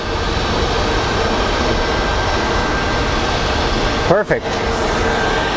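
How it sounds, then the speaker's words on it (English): An Airbus A220 lines up on the runway at Phoenix Sky Harbor International Airport. Its jet engines make a steady, broad roar throughout, and a person speaks briefly near the end. "So we have an Airbus A220 lining up."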